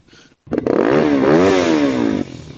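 A motorcycle engine revs hard in a single rising and falling surge, loud and close, with a rough clattering edge, as if the throttle wire is loose; a faint engine idle comes just before.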